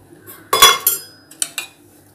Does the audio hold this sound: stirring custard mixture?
yes